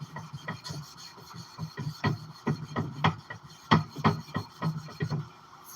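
High carbon steel blade is hand-sanded with grit paper, a rhythmic series of close rasping strokes, about three per second, with brief pauses between them.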